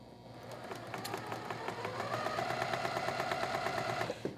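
Sewing machine stitching quilt block seams for a charity quilt, a steady rapid mechanical whir with rhythmic needle clatter running for about four seconds before stopping, close and fairly quiet.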